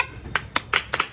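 Several sharp hand claps, about five separated by short gaps, close and fairly loud in a home setting.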